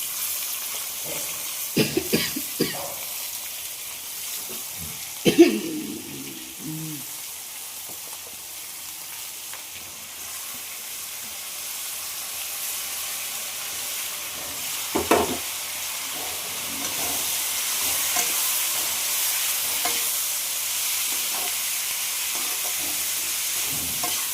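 Ivy gourd (dondakaya) pieces go into a pan of oil with turmeric, making a few clattering knocks and scrapes, then a faint, steady sizzle that slowly builds and grows fuller toward the end.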